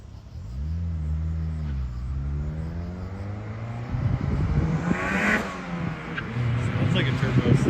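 Turbo Honda Civic hatchback, a little red EG, heard from a distance as its engine rises and falls through gear changes, growing louder and rumbling closer, with people talking over it.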